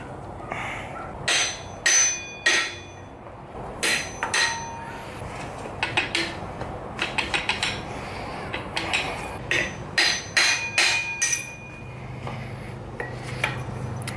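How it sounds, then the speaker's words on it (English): Sharp metallic hammer taps on the flanges of a Mazda Miata engine during teardown, coming in irregular bursts of close, ringing strikes with short pauses between groups, in a quiet garage with no talking. "I'm tapping on the outside flanges too"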